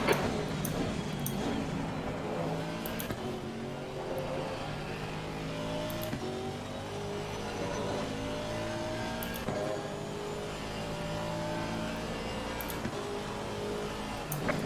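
GT3 race car engine in the Assetto Corsa Competizione racing game, a steady, close, sustained drone that rises and falls through gear changes with faint ticking, heard alone without talk.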